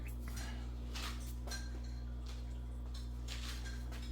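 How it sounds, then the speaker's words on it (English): A spatula scrapes the sides and bottom of a mixing bowl of Sprite pound cake batter after four eggs go in, giving faint, repeated scraping strokes over a steady low hum. "We're going to stop our mixer and start scraping down"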